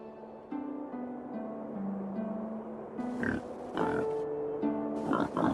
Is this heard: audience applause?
no